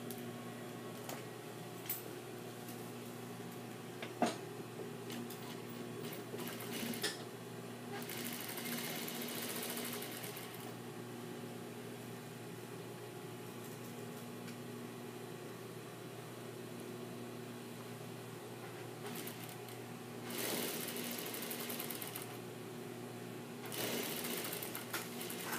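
A sewing machine stitches fabric while finishing a besom pocket, its steady motor whir running in several bursts of varying length with quieter pauses between, close and moderately loud with no talk.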